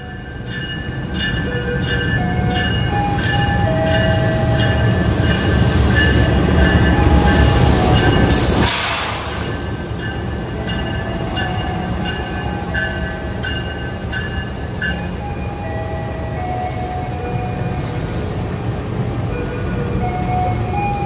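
The Harina passenger train, bound for Surabaya Pasar Turi, at Purwakarta station: a loud, continuous rumble of railcars with sustained high wheel squeals and tonal hums, swelling and then settling to a steady drone, with no talking.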